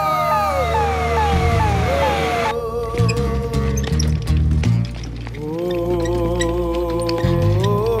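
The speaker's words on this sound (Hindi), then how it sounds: "एम्बुलेंस।" An ambulance siren wails loudly in rapid rising sweeps, then shifts to steady alternating tones, part of an action-film scene.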